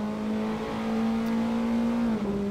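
Race car engine in Assetto Corsa holding a loud, steady high drone as it accelerates, then a quick dip in pitch near the end as it shifts up a gear.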